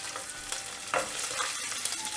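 Urad dal, green chili, ginger, coconut and tamarind being fried and stirred in a pan for mint chutney, giving a steady soft sizzle with occasional scraping stir sounds throughout, no talking.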